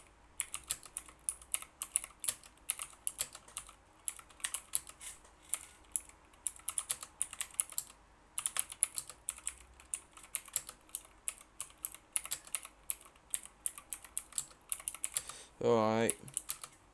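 Rapid clicking of a computer keyboard during touch typing practice, close and continuous with brief pauses, ending in a short vocal exclamation near the end.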